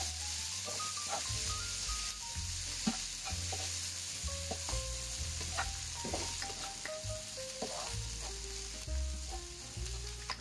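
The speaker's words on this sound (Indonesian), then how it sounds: "Tumis bumbunya dulu sampai harum." Spice paste with dried small shrimp stir-fried in a pan, a continuous hiss and sizzle with repeated scraping and clanking of a spatula, plus faint kitchen noises in the background.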